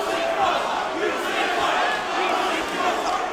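Dense wrestling crowd at a No DQ match shouting and pleading in unison, a sustained loud roar of many voices with no clear pauses.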